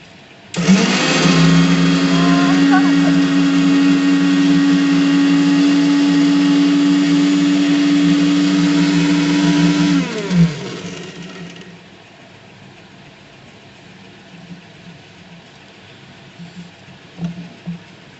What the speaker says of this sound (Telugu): ఇవన్నీ మిక్సీ పట్టాలి.